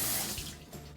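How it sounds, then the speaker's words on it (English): Hot water runs from a tap over a metal cake tool, a brief steady splashing hiss that is close and fairly loud, with no voices. "I'm going to put this under hot water, wet the back of it so it gets really hot"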